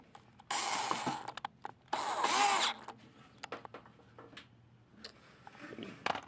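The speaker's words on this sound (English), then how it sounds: "and you drill your wire all the way in" A power drill drives a screw through a green ground wire loop into a metal grow lamp housing, with two short whirring bursts amid quieter clicks, rattles and handling noises close by.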